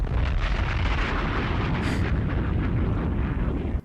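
Rapid bomb explosions booming back to back from a played video, a dense continuous roar of loud blasts with no pause and no talking.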